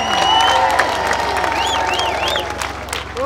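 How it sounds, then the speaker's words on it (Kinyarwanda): A church congregation applauds at a large gathering, a dense wash of clapping with some cheering and raised voices, steady and loud for a few seconds before easing slightly. "mukomere Imana amashyi"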